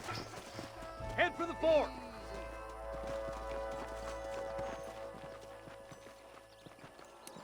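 Horses' hooves clip-clop steadily in the Red Dead Redemption video game, with a brief neigh near the start and someone speaking over the trotting.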